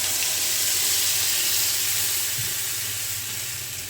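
Spice paste dropped into a hot pan of browned cumin, setting off a loud, continuous sizzle and hiss that eases slightly toward the end.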